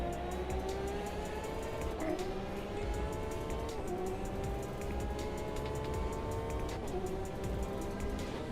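Several Porsche race cars drone along a German track in Automobilista 2, a steady layered engine whine with gear-shift dips and pitch changes, continuous and fairly close, with no talking.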